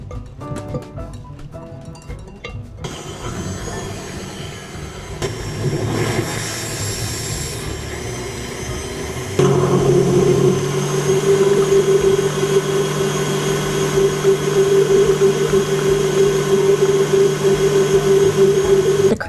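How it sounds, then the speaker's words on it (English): Electric mixer whipping cream and butter with cocoa powder for a no-bake chocolate cake, a steady motor whir running the whole time that grows louder and higher-pitched partway through as the speed steps up. "we are gonna give this a nice little mix so that the cocoa powder doesn't go flying all over the"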